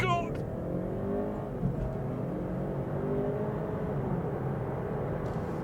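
A tuned, remapped BMW 330e hybrid accelerates hard from a standstill, heard from inside with a steady rising engine and motor whir, and a voice reacting early on.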